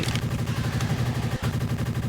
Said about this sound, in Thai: เสียงมันไม่ใช่เสียงปืนแกแต่เป็นเสียงวิ่ง